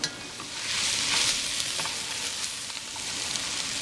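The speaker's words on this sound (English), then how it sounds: "I'm going to keep stirring this, watching it through the whole cooking process" Onions caramelizing in a pan for French onion soup sizzle and fry steadily while a utensil stirs them, giving a continuous close hiss with faint scraping.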